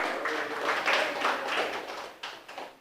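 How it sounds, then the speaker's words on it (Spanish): Spanish-speaking congregation in church clapping together, a full, rolling burst of many hands at moderate distance that swells in the middle and then thins into scattered claps. "¿Cuántos pueden darle palmas a Cristo Jesús,"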